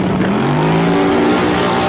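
A turbocharged Chevrolet Nova making a drag racing pass, its engine screaming loud and close with a rising pitch as it accelerates hard down the strip.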